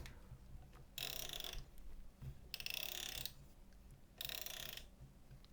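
Rapid ratcheting clicks from a laptop/tablet stand's 360-degree rotating joint, three separate bursts of fine clicking separated by brief pauses, faint and close.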